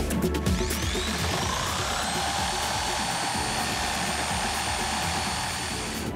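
An electric reciprocating saw cuts into a wooden beam with a screw driven into its end, producing a loud, steady motor whine and grinding rasp throughout, close by.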